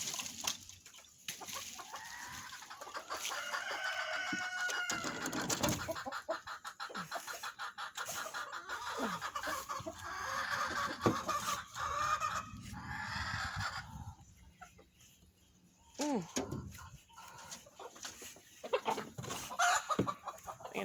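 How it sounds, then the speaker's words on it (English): Chickens cluck and murmur nearby in a yard, with irregular bursts of clucks and squawks among rustling and occasional outdoor noise. "these chickens need to get out here and get to stirring"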